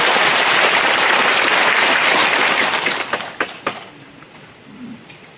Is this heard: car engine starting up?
no